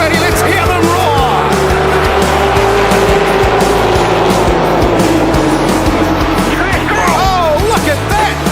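V8 race cars roar at Pukekohe Park Raceway, a loud dense wall of engines with rising and falling revs and tire squeal, under a commentator's excited talk.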